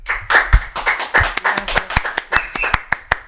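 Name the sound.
applause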